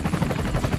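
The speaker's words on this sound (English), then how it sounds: "Helicopter flybys" A rhythmic, pulsing thump of helicopter rotor blades near the US border on the Pacific Crest Trail, steady and moderately loud, with no voices.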